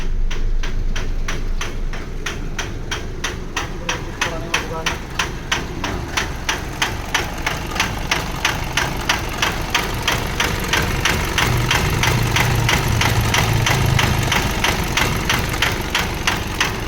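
A 2010 Mitsubishi Strada's 4M41 turbo diesel engine idles steadily with a rough, knocking clatter, evenly repeating taps riding over a low continuous rumble, loud and close for the whole stretch.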